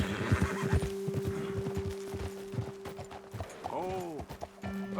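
A horse in Red Dead Redemption 2 clip-clops along at a walk, then lets out a clear, close whinny near the end, with a low steady hum under the hooves.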